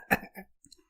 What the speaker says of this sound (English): It's clearing my throat